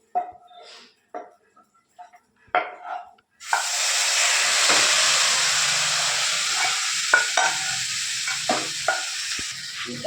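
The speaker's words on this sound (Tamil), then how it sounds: "இப்போ நம்ம இதை நல்லா ஃப்ரை பண்ணலாம். நல்லா மிக்ஸ் பண்ணிக்கலாம்." Maggi noodles stir-frying in a hot pan give a loud, steady sizzle and hiss with scraping stirs throughout, following a few seconds of brief clatter and quiet kitchen sounds.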